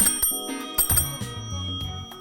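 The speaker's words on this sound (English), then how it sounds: "It has a great bell." The bell on a solid steel-framed bicycle made in Munich in 1940 rings in a few quick bright dings close by, their metallic tones hanging and fading between strikes.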